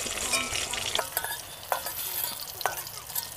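Eggplant pieces fry in hot oil for a fish curry, a steady close sizzle broken by a few sharp spatula scrapes and stirs, with no voices.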